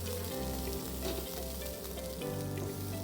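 Chopped onion sizzles in a pan over an LPG gas stove after garlic, a steady, close, crackling fry with a low hum pulsing underneath and no talking.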